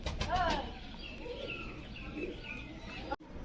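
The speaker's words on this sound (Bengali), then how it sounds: "দেখুন মিরাববালা কাটা চোখের পায়রা।" Pigeons of the cut-eye Mirabbala breed and other high-flying fancy pigeons at a home loft in Krishnanagar coo in soft, throaty bursts, close by, with faint chirps and brief wing rustles before a sudden dropout near the end.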